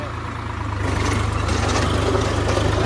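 A tractor engine runs close by, a deep throbbing idle that grows louder and steadier after the first second; the tractor has newly fitted plough tines.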